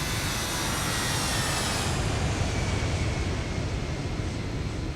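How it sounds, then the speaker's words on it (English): A Germanwings airliner's engines roar during takeoff in a dense, continuous broadband rumble that stays loud and steady throughout, with the high-pitched whine fading partway through and no voices. "The engines roared, the throttles went full forward, and within seconds the aircraft lifted off the runway into the sky."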